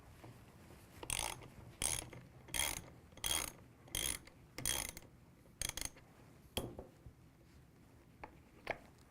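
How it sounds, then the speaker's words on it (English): A ratchet wrench loosens the two brake caliper pins while brake hardware is being changed, giving close, loud bursts of rapid clicking, about eight strokes in a steady rhythm with short pauses between, and no talking. "Disassembly begins by removing the two caliper pins."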